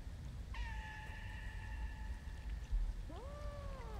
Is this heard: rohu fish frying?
no